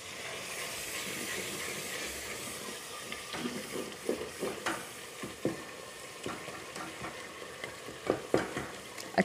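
Spices and turmeric being stirred in a frying pan, with a steady sizzle underneath and repeated scraping strokes of a spoon growing more distinct toward the end, close and moderately loud with no talking.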